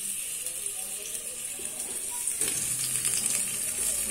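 Onion sizzles in hot oil at the bottom of a pressure cooker, a steady close hiss and crackle with a brief louder burst partway through, no voices.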